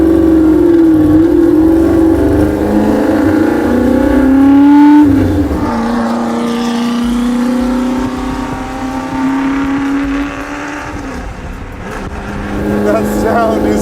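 A Shelby GT350 engine pulls hard through canyon roads, heard from inside the car as a loud rising and falling roar with gear changes, while people talk over it.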